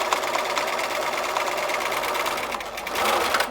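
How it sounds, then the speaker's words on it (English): Domestic sewing machine running a normal straight stitch through fabric between two rows of gathers while smocking, a steady close whirring drone that holds throughout and briefly swells near the end. "I've set my machine back to a normal stitch, back tacking, and then I am sewing right in the middle of those 2 rows of gathers"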